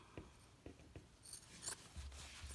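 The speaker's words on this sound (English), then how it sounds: "So I can just snip right next to it." Fabric scissors snip beside a sewn seam on a homemade cloth face mask, several crisp close cuts and faint rubbing of cloth, quiet, with no voice.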